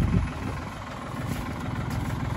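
A low, rumbling tractor engine idles steadily nearby, a continuous throbbing drone with no voices.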